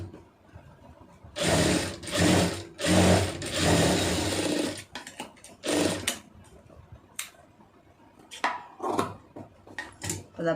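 A domestic sewing machine stitches a lined blouse in several loud, close, rapid mechanical bursts separated by pauses and softer handling clicks.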